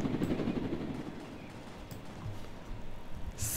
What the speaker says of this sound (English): I'm gonna grab an army helicopter